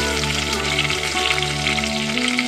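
Cardamom pods, dried red chillies and bay leaves sizzle in hot ghee for dhokar dalna, a steady close crackle and hiss over a faint sustained tone, with no talking.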